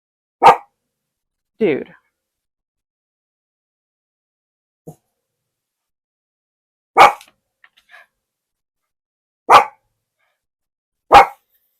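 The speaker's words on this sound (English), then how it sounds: "Who are you barking at? Leave that poor man that's doing the lawn alone." A dog indoors by a window barks at a man mowing the lawn outside: about five sharp, separate barks with long silent gaps, plus a softer low woof, and a single brief spoken word from a person nearby.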